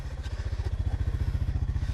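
An old handheld plough engine runs steadily, a rapid regular low chugging pulse with rattly clatter on top, close and continuous without talk.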